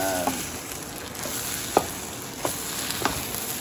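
Eggs frying in a pan with fried rice, with a steady close sizzle and a few soft scrapes of stirring through it.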